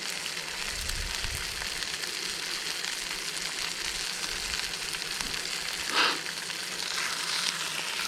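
Food fries in a pan on a solo wild camp in Wales, a steady close sizzle and crackle of hot fat running throughout, with a brief louder spit near the end.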